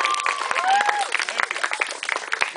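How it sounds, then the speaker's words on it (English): A short burst of clapping from a small group, lively and close, with voices and a whistling tone over it. "Give me applause."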